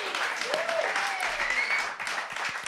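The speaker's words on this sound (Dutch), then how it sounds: "Ik was aan het klappen voor mijn eigen." Clapping from a small audience at an improv comedy show, moderately loud and continuous. Faint voices come through over the applause.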